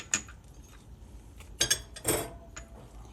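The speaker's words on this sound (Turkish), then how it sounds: "Karıştırma kabımın içine 2 yemek kaşığı yoğurt ve baharatları ilave edip karıştırıyorum." Spoon stirring yogurt with spices in a mixing bowl, giving a few soft, scattered clinks and scrapes against the bowl with quiet gaps between them.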